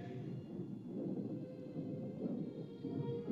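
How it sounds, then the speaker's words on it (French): A thunderstorm rumbles overhead in a steady, low, rolling roar that fills the clip at moderate loudness, with no voices heard. "Peut-être est-ce l'orage qui se déchaîne au-dessus de nos têtes"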